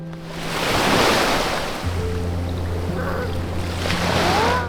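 Ocean waves wash and break on a beach in a broad continuous roar, swelling and easing, with wind buffeting the microphone and brief faint voices in the background.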